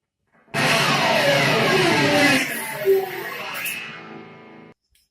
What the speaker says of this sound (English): glide that pick all the way towards the headstock